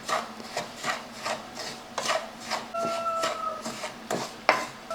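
A spoon stirs semolina upma in a pan with steady, rhythmic scraping strokes, about two per second, heard up close with a few sharper metallic scrapes and no talking.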